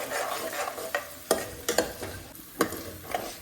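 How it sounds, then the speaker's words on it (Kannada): Onions frying in hot oil in a home kitchen pan, a steady soft sizzle broken by several sharp clacks of a spoon stirring against the pan, close and fairly loud, with no one talking. "ಸೊ ಎಣ್ಣೆ ಸ್ವಲ್ಪ ಕಾದ್ಮೇಲೆ ಈರುಳ್ಳಿ ಹಾಕೋತಾ ಇದ್ದೀನಿ. ಆ್ಯಂಡ್ ಈರುಳ್ಳಿ ಸ್ವಲ್ಪ ಬ್ರೌನಿಷ್ ಕಲರ್ ಬರೋವರೆಗೂ ನೀಟಾಗಿ ಫ್ರೈ ಮಾಡ್ಕೋಬೇಕು"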